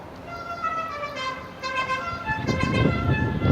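A truck passing on a street, at first taken for an ice cream truck, with a tonal horn-like sound over a rising road rumble that grows louder as it nears.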